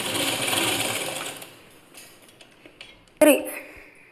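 A sewing machine stitching piping onto a blouse hums close for about a second and a half and then fades out, followed by a sharp metallic clink as a voice talks over it.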